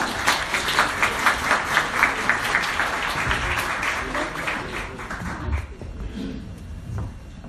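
Audience applause at a basic income talk at Pangyo Techno Valley, dense and sustained clapping from a hall crowd that thins toward the end, with some voices mixed in.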